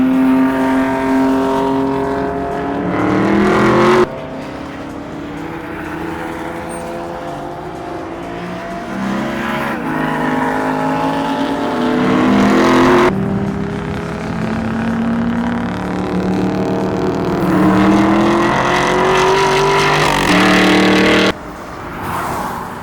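A Chevrolet Camaro ZL1 1LE driving hard on a race track, its loud engine climbing through the revs, briefly easing, then pulling hard again through repeated gear changes, steady and close, with no talk.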